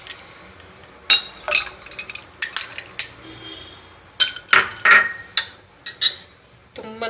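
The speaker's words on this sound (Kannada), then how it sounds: "ನಂತರ ಇಲ್ಲಿ ನಿಮ್ಗೆ ಎಷ್ಟು ಕೂಲ್ ಬೇಕೋ ಅಷ್ಟು ಐಸ್ ಕ್ಯೂಬ್ ಹಾಕ್ಕೋಬೋದು." Ice cubes drop into a glass of watermelon juice, giving bright clinks and rattles in irregular clusters, close and crisp against near silence.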